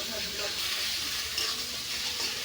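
Fish frying in hot oil gives off a steady, close hiss of sizzling with a faint bubbling crackle and no clear pauses.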